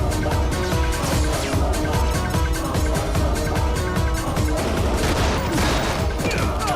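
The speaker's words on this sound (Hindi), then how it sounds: "मुझे गोली चलाने किसने सिखाई?" Gunfire in a Hindi action film: a dense run of rapid shots and crashing impacts layered over a loud dramatic score, continuous throughout with no speech.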